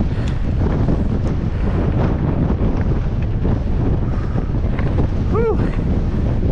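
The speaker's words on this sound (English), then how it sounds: "It's so windy." Strong gusty wind buffeting the microphone on a mountain bike trail in Las Vegas, a loud continuous roar close up with a brief faint squeak near the end.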